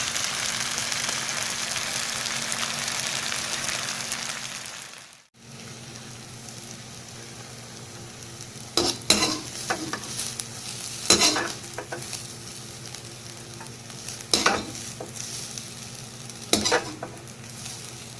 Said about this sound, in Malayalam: ഈ കോളിഫ്ലവർ എല്ലാം ഇതുപോലെ ഫ്രൈ ചെയ്തെടുക്കാം.